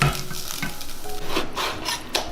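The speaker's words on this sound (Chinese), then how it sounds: "水平锅加入适量油，把梅菜干放进来炒香" Chopped dried preserved mustard greens stir-fried in oil in a flat pan, a close sizzle with repeated scraping and tossing strokes of the spatula, steady and fairly loud with no talking.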